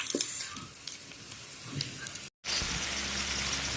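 Ground meat sautés with garlic and onion in a pan, giving a soft, steady sizzle with occasional light stirring scrapes. The sound cuts out briefly, then resumes as a brighter, fuller frying hiss.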